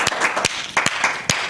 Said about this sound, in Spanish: poniendo un aplauso fuerte